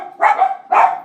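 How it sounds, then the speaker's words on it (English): Two loud, close dog barks, each a short sharp burst, about half a second apart. "Sorry about the dogs."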